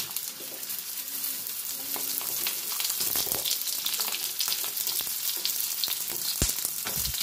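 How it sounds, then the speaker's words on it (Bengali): Potatoes and pointed gourd frying in a spiced tempering for chapor ghonto, a steady close-up sizzle with crackling pops and stirring scrapes, growing a little louder partway through. "আলু ওটা আর পটলটা আগে আমি দিয়ে ভেজে নেব।"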